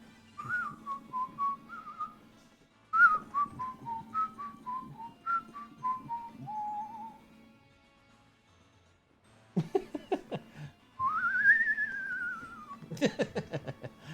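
A person whistles a tune in a string of short descending phrases, then a rising glide after a pause, with low hum and some faint clatter beneath during a gaming stream.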